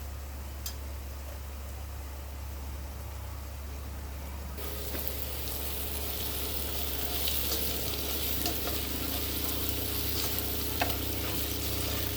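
Turmeric and chili powder fry in a hot pan for an egg and garlic chili dish, a soft sizzle that swells into a louder, continuous frying hiss with faint stirring scrapes, no voices.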